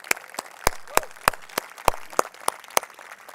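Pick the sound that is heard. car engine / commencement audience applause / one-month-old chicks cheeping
commencement audience applause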